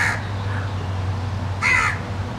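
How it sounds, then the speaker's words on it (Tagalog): Crow cawing in a botanical garden in the UAE, two harsh caws, one at the start and a louder one near the end, over a steady low hum. "there's a crow"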